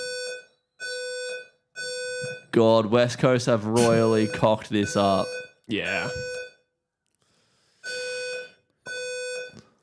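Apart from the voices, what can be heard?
fire alarm beeping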